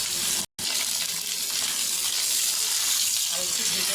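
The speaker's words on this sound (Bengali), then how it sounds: "আর একটু ভেজে নেবো।" Potatoes and vegetable skins frying in a pan for a fish curry with flat beans, a steady moderate sizzle with a brief dropout near the start.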